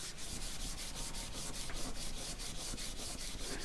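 Fingers rubbing dried glue off, heard as a continuous close, dry rubbing with rapid regular strokes, steady and fairly loud, alone without talk.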